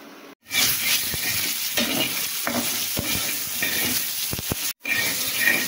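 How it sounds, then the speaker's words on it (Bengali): Pointed gourd (potol) frying in a pan, a close, steady sizzle with occasional sharp stirring clicks and scrapes, briefly dropping out twice. "এখানে আমি পটল ভাজিটা করে নিলাম।"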